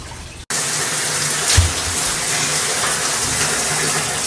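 Shower water gushes steadily and loudly after a brief silence, a constant broadband hiss with a small knock partway through.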